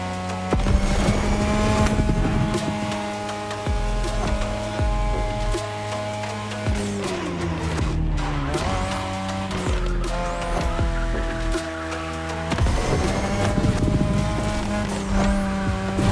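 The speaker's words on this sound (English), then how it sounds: "Tonight, your ride is a third-gen 2002 Mazda RX-7. Lightweight, compact, a sick rotary engine, and one hell of a look." A 2002 third-generation Mazda RX-7 with a rotary engine racing in The Crew Motorfest, its high revving engine climbing and dropping through gear changes, with tire squeals and whooshes, loud and close throughout.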